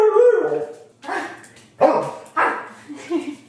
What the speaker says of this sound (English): She's barking because she's hungry.